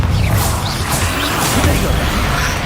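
A Bombarda blasting spell in Hogwarts Legacy bursts as a loud, dense explosive rush of crashing, whooshing game effects that fills the whole moment without pause.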